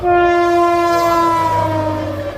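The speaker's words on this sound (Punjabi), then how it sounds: "ਲੰਘਦੀ ਹੋਈ ਟ੍ਰੇਨ" A train horn blares loudly, a sustained harmonic blast close by that slowly fades as the train goes past.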